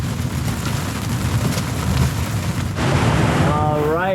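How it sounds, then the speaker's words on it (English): Heavy squall rain on a sailboat in the Bahamas, a dense steady hiss of downpour mixed with wind, loud and continuous, rising slightly toward the end with a brief whistling tone at the close. "All right, finally a proper rain."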